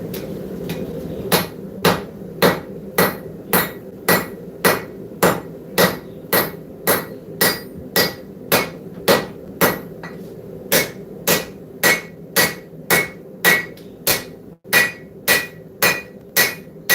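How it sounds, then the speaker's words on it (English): A hammer strikes hot steel on an anvil in a steady run of about two dozen sharp ringing blows, evenly spaced and close, over a low constant forge roar, with no talking. "let's go ahead and get it back out of the forge and keep going."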